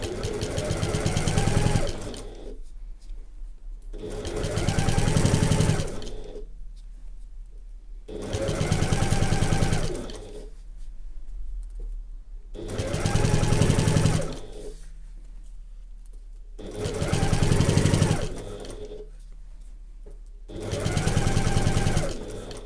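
A sewing machine top stitching a handbag runs in six steady bursts of rapid stitching, each a couple of seconds long with short pauses between, close and loud with no talking.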